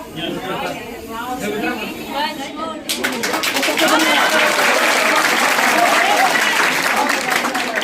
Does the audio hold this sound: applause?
yes